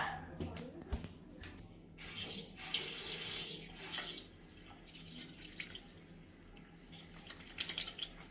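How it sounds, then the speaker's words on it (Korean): Tap water runs and splashes into a sink while someone washes their face, a continuous soft rushing with intermittent splashes, fairly faint and close. "얼굴을 깨끗이 다 씻었고요"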